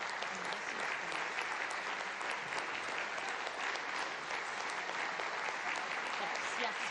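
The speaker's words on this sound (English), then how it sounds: "they're going to applaud you." A room of attendees at Lexington's Annual Town Meeting breaks into sustained applause, a thick, even wash of many hands clapping that holds steady and fairly soft throughout.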